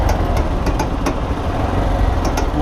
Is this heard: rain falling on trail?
no